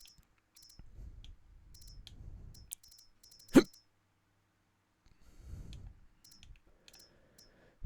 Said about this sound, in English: Sorry, hiccups.